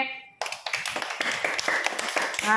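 Children clap their hands together in a quick, dense burst of many close, sharp claps that follow a brief voice at the start.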